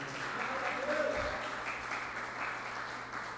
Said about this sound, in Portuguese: eu peço aos amados irmãos que dêem uma salva de palmas ao Senhor